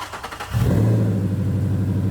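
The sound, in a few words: Mustang car engine starting and revving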